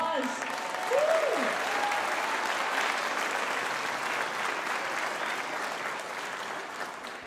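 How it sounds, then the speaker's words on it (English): A concert audience applauds music teachers at a jazz night, clapping steadily with a whoop rising near the start, then a sustained, fairly distant wash of claps that slowly fades. "Let's give these people a round of applause"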